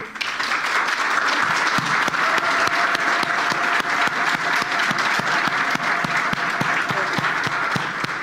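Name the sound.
audience applause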